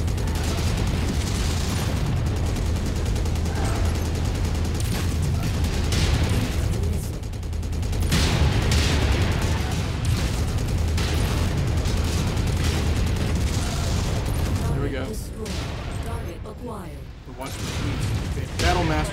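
Battle in MechWarrior 5 with mech weapons firing and explosions booming almost nonstop, a loud layered roar of gunfire and blasts that never lets up, with people talking over the combat.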